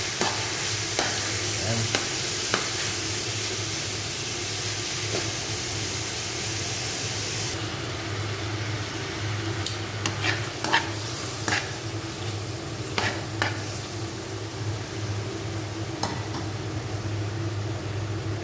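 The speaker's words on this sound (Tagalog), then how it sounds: "Igisa-gisa muna natin ito siya mga guys. Palambutin muna natin ito." Beef being sautéed in a pan for menudo, a steady close frying sizzle with scattered scraping and clinking stir strokes. The sizzle is brighter at first and eases slightly partway through, and a voice speaks briefly.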